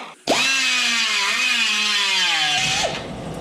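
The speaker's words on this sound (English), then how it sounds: "Now I can come in here with a die grinder and take all this excess metal out so I just have a nice slot." An air die grinder cutting excess metal from a truck frame on an S10, a loud high-pitched whine starting abruptly, wavering in pitch as it bites, then winding down.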